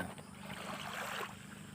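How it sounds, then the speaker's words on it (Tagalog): A fishing boat heads out onto a calm sea, its engine a steady low drone under wind and water noise, holding fairly even and easing slightly toward the end. "Ayun, may bangka na naman"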